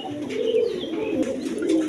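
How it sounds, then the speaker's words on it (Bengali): A pair of Giribaz pigeons coo softly and continuously, close by, in a low, steady rolling murmur with faint higher sounds in the background. "বন্ধুগণ, এইখানে এক পেয়ার কবুতর আছে, গিরিবাস কবুতর।"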